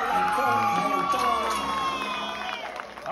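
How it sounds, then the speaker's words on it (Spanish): Children at a Halloween costume party cheer and shout in an excited crowd, a loud continuous burst of high voices and whoops that stays strong throughout and eases slightly at the end. "Aplausos para la diosa egipcia y el esclavo."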